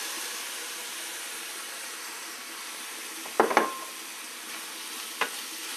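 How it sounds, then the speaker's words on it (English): Ground meat and vegetables for shepherd's pie frying in a pan, a low steady sizzle broken by a few sharp scraping stirs near the middle and one more near the end. "Stir it up."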